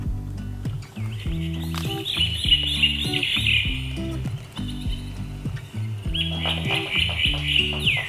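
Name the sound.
jungle bird calls from sound book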